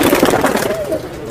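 Border pigeons, males and females mixed, many with clipped wings, coo in a pet shop in Andheri East, Mumbai, a fairly loud layered cooing with rustling that thins out after the first second.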